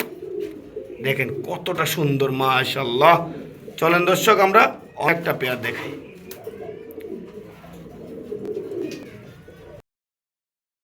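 A female pigeon for sale gives low, rolling coos, heard close but partly buried under someone talking steadily over it.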